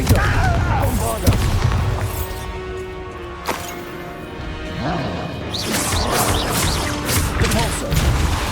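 Confringo and Bombarda spell explosions in the Hogwarts Legacy video game, loud crashing blasts and booms recurring through a chaotic battle, with voices cast over the impacts.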